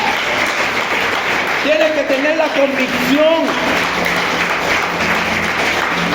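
Church congregation applauding during a sermon, a sustained wash of clapping beneath a preacher's voice speaking loudly over it, steady in level throughout.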